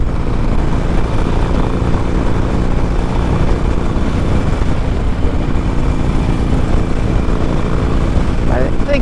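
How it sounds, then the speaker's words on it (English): A Harley-Davidson Sportster 1200 Iron motorcycle engine rumbles steadily while riding on a New Year's Day shakedown cruise, a loud continuous low drone mixed with wind rush throughout. "the sounds that Sportsters make are one of the better sounds in motorcycling"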